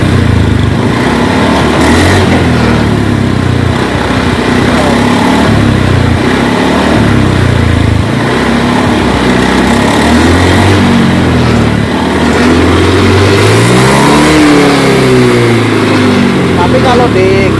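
Honda Beat scooter engine being revved while it hesitates on the throttle: a loud, continuous sputtering engine note with uneven rises and dips in pitch, heard close up with someone talking over it.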